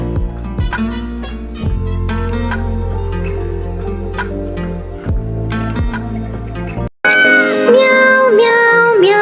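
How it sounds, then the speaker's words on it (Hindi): A cartoon cat meows in a Hindi children's rhyme, the meows sitting over a bouncy sung melody with dripping, squishy effects and repeated pitched notes, followed by a short pause and a clear warbling meow-like tone. "बिल्ली करती म्याऊ"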